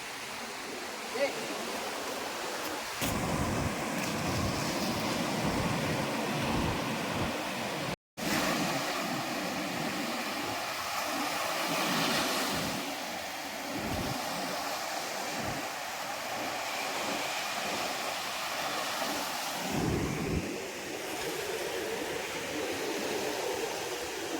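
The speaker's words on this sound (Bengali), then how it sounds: "সমুদ্রের যে আওয়াজটা ভাই, ওটাই সেরা লাগছে" Sea waves rolling in at Digha beach, a broad, constant wash of surf with swelling surges and wind, heard at a fair distance.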